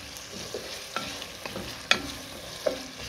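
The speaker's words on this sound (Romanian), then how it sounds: "Amestecăm să nu se ardă. Și o ținem până se moaie ceapa." Onions frying in a pan, stirred so they soften without burning: a soft, quiet sizzle under a few light scrapes and taps of the stirring utensil.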